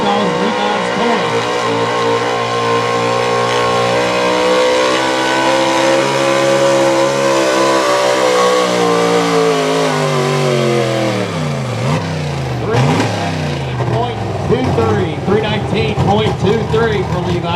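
A 1973 Chevrolet 4x4 truck with a small block high output engine roars loudly at a truck competition, its pitch climbing under sustained acceleration before dropping and surging again, with an announcer talking over the engine.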